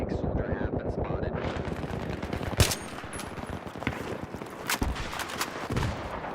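Weapon gunfire in Battlefield 3, rapid automatic bursts and sharp single shots crackling up close, with a louder blast near the middle and distant battle noise and voices around it.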